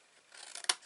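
Scissors snip through paper in a short, close cut, a soft rising rasp ending in a couple of crisp clicks, during a paper craft project on a cigarette box.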